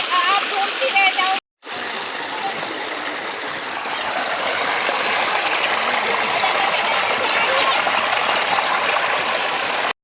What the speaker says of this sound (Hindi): ये किन पहाड़ों से आ रहा है पानी?